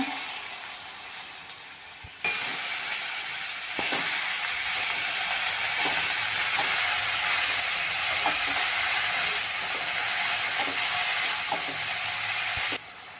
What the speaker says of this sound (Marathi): धुतलेली चिरलेली भाजी आता त्यामध्ये घालूया